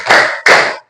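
Two loud, close hand claps sound in quick succession, each a sharp, full slap with a short ring, as part of a rhythmic classroom clapping routine.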